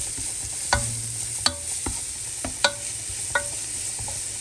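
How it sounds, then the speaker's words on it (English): Carrots sauté in a hot pan for broccoli cheddar soup, a steady sizzle under repeated sharp scrapes and knocks as a utensil stirs them, five or six distinct strokes spaced irregularly. "I'm just going to saute this for a minute as well before I add my broccoli"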